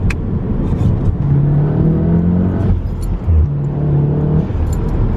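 A Volkswagen Golf R fitted with an induction kit revs and burbles through downshifts, its loud, steady engine drone rising and falling in pitch across several gear changes, close up with no talking.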